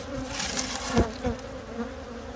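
Agitated honey bees during an oxalic acid treatment against varroa mites at a beekeeping hive, a dense, steady buzz close by with a few louder swells as bees pass near.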